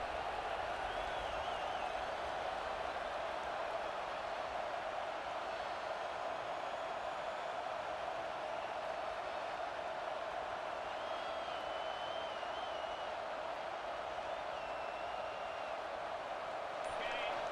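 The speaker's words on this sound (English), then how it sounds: "this crowd trying to help keep them there" A steady stadium crowd roars throughout a college football game in EA Sports College Football 26, with the home fans loud and continuous as they try to pin the opposing offense deep in its own end.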